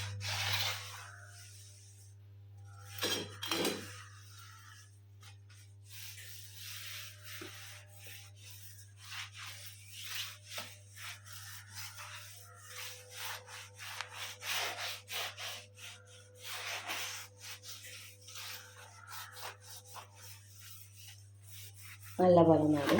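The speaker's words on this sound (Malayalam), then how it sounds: "ഇനി ഇതുപോലെ എല്ലായിടത്തും ഒന്ന് തുടച്ചെടുക്കട്ടെ കേട്ടോ" Wet cloth rubbed over a kitchen stove, making repeated scratchy wiping strokes in bursts, close by over a low steady hum, with a little talking.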